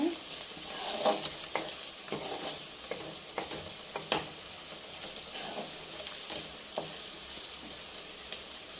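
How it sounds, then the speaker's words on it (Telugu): Ginger and garlic fry in oil for chicken fry biryani, a loud, steady sizzle close up with scattered pops and the scrape of stirring, and no talking. "ఇప్పుడు అల్లం వెల్లిపాయ వేగుతుంది కదా."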